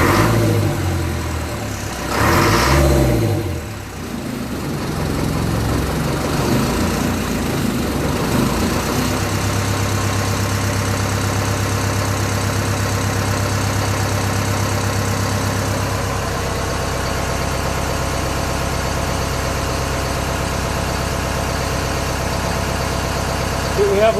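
A Land Rover Series 3 with a 2 1/4 litre diesel, freshly rebuilt and on its first start with slightly advanced pump timing, clatters at a steady idle, loud and close, with a brief rougher burst early on.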